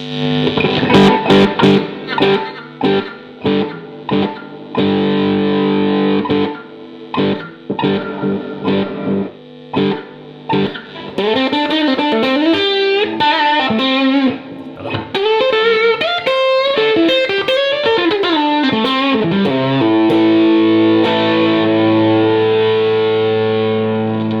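Distorted electric guitar playing through a Yamaha THR10C amp, loud and drenched in reverb, with choppy strummed chords giving way to sustained ringing notes and a lead line.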